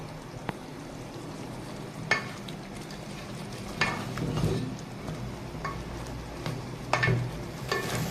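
Beef karahi in green masala sizzling and frying in a pan over a raised flame, a steady soft crackle broken by periodic scraping stirs and occasional utensil knocks against the pan, close and moderately quiet.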